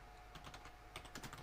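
Quiet keyboard typing, with soft quick keystrokes arriving in two short bursts against a faint background hum.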